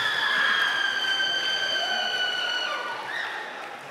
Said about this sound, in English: And a round of applause for Ansalmo Guitirrez.